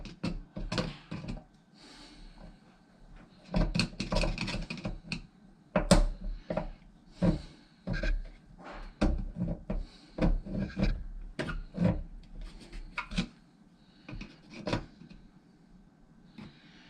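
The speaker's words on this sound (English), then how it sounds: "I'm going to take a small screwdriver, try to pry on it." A small screwdriver scrapes and pries against a stuck washing machine hose fitting, giving irregular bursts of close rubbing and grinding with short pauses between efforts, fairly quiet overall.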